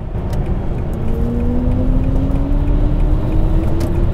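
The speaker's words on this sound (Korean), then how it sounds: "이 차 가속할 때 좀 들려지는 사운드가 되게 독특한데요" A loud, steady BMW iX electric SUV drone with a rising synthetic tone sweeping upward as it accelerates, over heavy low rumble and road noise.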